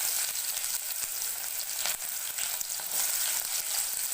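Mustard seeds and small shallots fry in hot oil for an okra tamarind kuzhambu, making a dense, continuous sizzle with a close, crackling hiss and no voices.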